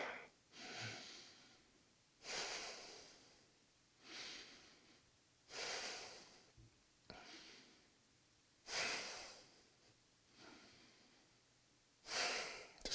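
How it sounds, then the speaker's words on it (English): Slow, deep yoga breaths during a standing no-hands flow, five long airy inhale-exhale swells spaced a couple of seconds apart, close and fairly soft with no talking. "Full body breath."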